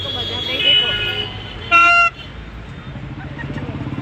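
Toy bhonpu horn blown for Makar Sankranti, giving one short buzzy toot at close range amid street ambience and background noise.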